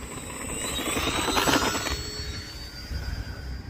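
An Arrows F4U-4 Corsair 1100mm PNP radio-controlled model plane takes off, its electric motor whining steadily and rising in pitch, then fading slightly as it rolls and climbs away, heard alone without talk.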